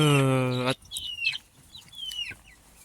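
Poultry gives a loud, harmonic cluck or call up close that cuts off abruptly, followed by thin, high peeping chicks chirping in short bursts over a quiet background.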